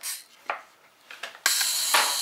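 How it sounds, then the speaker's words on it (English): Tiny wind-up toy Polaroid camera mechanism clicking and whirring as it ejects film, a few small sharp clicks ending in a louder rasping burst, heard up close. "It's just a little wind-up toy, but you hit the shutter release, and the film comes out."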